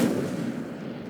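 In the video game Hogwarts Legacy, the Incendio fire spell goes off as a single short, forceful burst that fades over about a second, heard alone.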